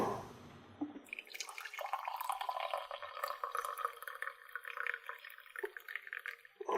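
Trader Joe's medium roast coffee pours steadily into a cup, a continuous close liquid stream with rising pitch as the cup fills, lasting several seconds with no talk.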